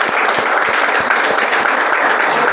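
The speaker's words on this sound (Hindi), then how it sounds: "जोरदार ताली बजे।" Dense audience applause fills the space, a steady loud wash of many hands clapping together without pause at an event celebrating business success.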